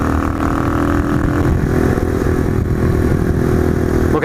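A small Cub motorcycle engine is ridden steadily at about 40, a loud continuous buzzing drone with wind and road rumble close by, holding an even pitch throughout.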